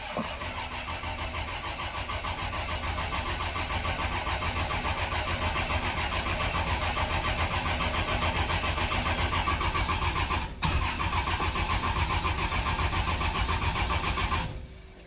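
A Dodge Cummins diesel engine cranks and runs right after an injector install, with a steady, loud mechanical clatter that holds throughout and cuts out near the end.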